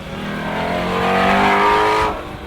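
Naturally aspirated 5.2-liter flat-plane V8 of a 2017 Ford Mustang Shelby GT350R revving hard with a rising, rasping engine note, loud and close, then cutting off abruptly near the end.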